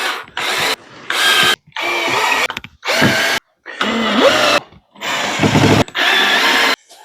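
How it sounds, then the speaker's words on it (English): A drill drives four pocket screws into wood for a coffee table shelf: four or five loud, close whirring bursts, each roughly a second long, with brief silences between them and the motor pitch shifting as each screw seats. "I'm going to throw 4 pocket screws into the holes that I cut"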